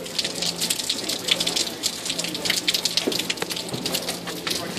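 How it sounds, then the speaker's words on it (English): Rain falling steadily outdoors in a foggy, soaked setting, a dense hiss of drops with scattered louder splashes and patters across the whole stretch, fairly soft and continuous. "As you can see, it's raining."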